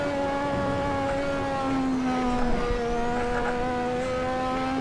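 A Lotus 98T Formula 1 race car in the Assetto Corsa sim at Spa-Francorchamps screams at high revs, a loud steady engine whine running continuously with pitch shifts as it climbs through the gears.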